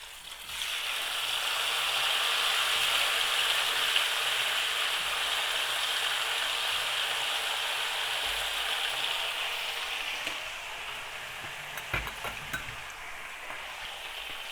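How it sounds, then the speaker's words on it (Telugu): Mutton pieces deep frying in fully heated oil for pickle, a loud, steady hissing sizzle that eases slightly partway through, with a few faint clinks near the end. "నెక్స్ట్ ఈ పీసెస్ని మనము దాంట్లో యాడ్ చేసుకోవాలి, ఫ్రై చేసుకోవాలి."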